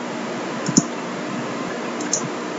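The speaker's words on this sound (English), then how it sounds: "If everything is fine, just click on create now." A computer mouse clicks the create button in a cloud portal setup screen, giving two sharp, isolated clicks about a second apart over a steady background hiss, close and quiet, with no talking.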